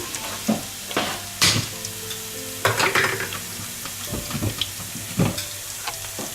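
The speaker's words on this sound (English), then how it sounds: "I've just added some onions, the cut onions, so you can see it boiling." Onions sizzle and crackle steadily in a hot pot, with occasional louder stirring scrapes and pops over a constant frying hiss.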